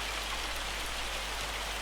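Steady dense patter of hail falling in a farming video game, rendered by a weather mod, a continuous hissing rush of tiny impacts heard alone with no voices.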